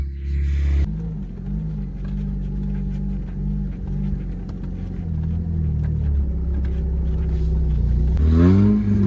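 A car engine run without a muffler drones loud and steady, holding a raw, low rumble for several seconds before rising in a brief rev at the end, close to the listener with no talk.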